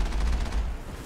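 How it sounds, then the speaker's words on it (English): Sustained gunfire in the Mass Effect video game, a dense, loud burst of rapid shots with heavy low-end rumble running through the whole second, no voices. "We're being shot at."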